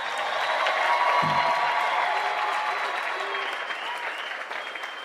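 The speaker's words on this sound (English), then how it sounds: "Let's give them a round of applause." A large audience applauds the graduating class of 2026 at Edison Career and Technology High School in Rochester, sustained dense clapping that stays loud throughout and tapers slightly near the end.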